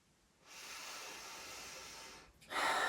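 Steady breath flows during a yogalates exercise: a long soft exhalation for about two seconds after a short quiet pause, then a brief dip and a sharper, louder breath to close, with no talking.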